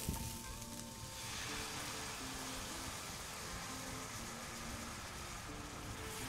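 Coconut milk is poured into sizzling curry paste for a chickpea curry, turning a brief pouring splash into a dense, steady frying hiss that runs close and loud throughout, with no talk.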